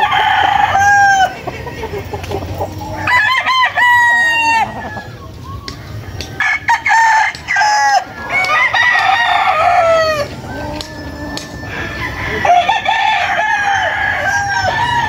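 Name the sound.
roosters crowing at a chicken farm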